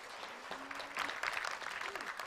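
An audience applauding at a humanity award ceremony, a fairly faint, brief burst of clapping that swells after a moment, with a voice and some crowd murmur underneath.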